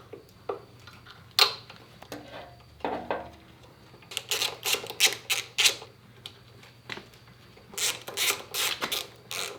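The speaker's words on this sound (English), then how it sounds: "Then we get our T25 and we can now screw this stuff back into here." A T25 screwdriver drives small screws back into an Indian Scout motorcycle during a beach bar install, giving close, irregular bursts of clicking ratchet-like taps with short pauses between them.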